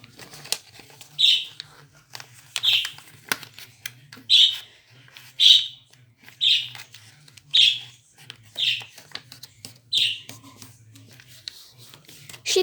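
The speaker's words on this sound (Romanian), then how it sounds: "ăla e papagalul meu" A pet parrot squawks and chirps indoors in repeated bursts about once a second, loud and close, with light rustling between the calls and no talking.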